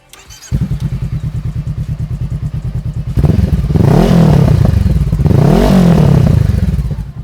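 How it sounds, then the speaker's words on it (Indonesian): A Honda CBR motorcycle with a deep, bassy Thermic aftermarket exhaust idles with a rapid pulsing thump, then revs loudly twice in long rising-and-falling surges, close by. "Kita sudah sematin satu knalpot thermic noni original yang pastinya suaranya enak banget"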